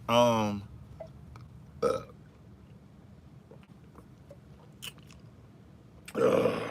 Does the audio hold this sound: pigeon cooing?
no